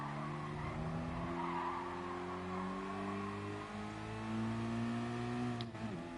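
Car tires squeal in a long, steady skid under braking in the racing game Gran Turismo Sport, with the engine droning beneath it as the pitch slowly shifts, all at a moderate level.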